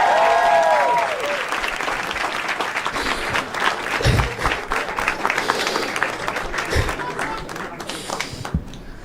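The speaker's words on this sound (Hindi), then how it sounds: "एक बार सुना तालियां भाई के लिए यार" Loud, sustained audience applause for a contestant on a comedy show, dense clapping with cheers and shouting voices mixed in throughout.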